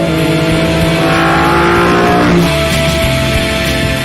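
BMW M3 CSL accelerating hard, its engine note rising in a loud sustained roar with a brief drop at a gear change before it climbs again, heard from inside the car.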